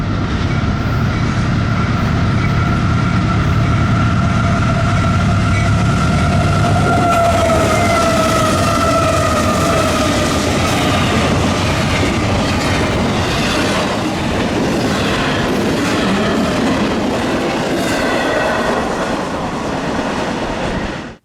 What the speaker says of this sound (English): we saw the lights of Norfolk Southern 20H approaching